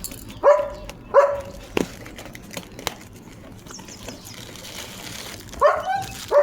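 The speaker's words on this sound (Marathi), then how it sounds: "लिओ भुंकतोय" A German Shepherd gives a few sharp barks and yips, spaced apart, fairly close, with quiet background noise between them.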